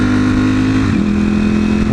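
A rough-running pickup truck engine revs close by, its droning pitch stepping up partway through over a constant rumble, with someone talking faintly.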